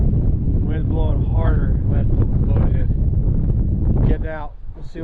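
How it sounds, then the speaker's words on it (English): Strong wind on a lake buffets the microphone in a heavy, continuous low roar, while a person talks over it before the gusts ease slightly near the end. "the wind's blowing pretty hard"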